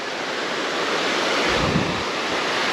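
A creek on the Twentymile Loop Trail in the Great Smoky Mountains rushes in a steady, broad wash of flowing water close by, with some wind buffeting the microphone and no voices.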